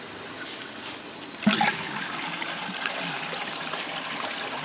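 A lowboy toilet flushes after the plug is pulled, a burst of rushing water followed by steady trickling as the bowl siphons out, moderately loud and close with no talking.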